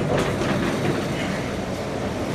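A heavy freight elevator's outside gate slides down with a sustained, loud rumbling and rattling metallic roll that fills the whole stretch close by.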